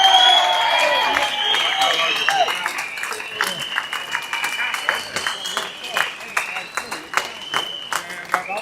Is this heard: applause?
yes